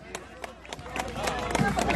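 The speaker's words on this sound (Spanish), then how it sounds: "Fuerte las palmas." An audience claps at a scissors dance competition in Callqui Chico: scattered sharp claps at first, thickening into fuller, steadier applause near the end, with a voice talking over it.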